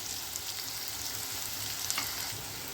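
Beetroot, carrot, capsicum, green chillies, onions and curry leaves sizzle and crackle steadily in a pan, a soft continuous frying hiss with occasional stirring scrapes and no voices.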